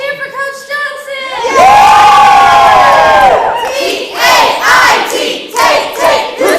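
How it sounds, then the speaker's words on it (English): A crowd of children and students bursts into loud cheering, shouting and whooping for Coach Johnson. The sustained roar swells after a brief opening of tonal sound, then breaks into rhythmic chanting bursts. "Big cheer for Coach Johnson!"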